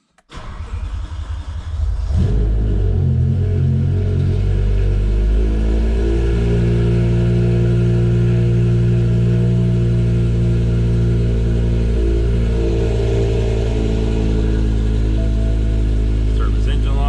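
A BMW M5 with the S85 V10 cranks briefly and fires into a loud, deep idle that settles into a steady, rumbling drone with slight swells in pitch, close by and continuous.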